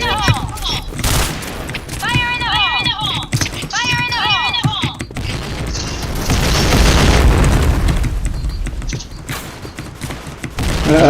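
A bomb explodes in the Point Blank first-person shooter game with deep booms, bursts of gunfire and chirping metallic effects in a busy battle mix. Players talk over the action.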